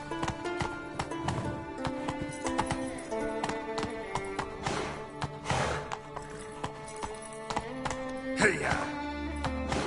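Roach, the horse in The Witcher 3, gallops with rapid rhythmic hoofbeats over a game soundtrack, with a whinny and a rider's urging calls breaking through now and then.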